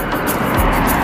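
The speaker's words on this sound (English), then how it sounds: "Domestic Afghani planes share the runway with Chinooks and Hercules." Aircraft noise on an airport runway in Afghanistan shared by domestic Afghan planes, Chinook helicopters and Hercules transports; a steady, loud engine roar fills the short stretch without a break.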